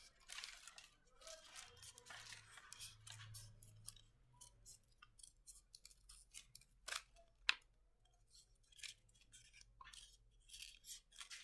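Scissors snip a circular cutout from a wedding card in quick, irregular clicks, close and quiet, with faint speech and handling noise underneath.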